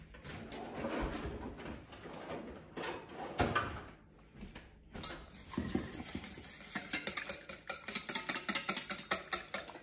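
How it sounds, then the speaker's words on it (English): A whisk beats a breakfast mixture in a bowl, starting with scattered clinks and scrapes and settling into quick, rhythmic tapping against the sides, close and alone. "I'm gonna grab my whisk and beat this together really,"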